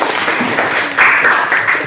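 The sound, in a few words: applause, clapping in class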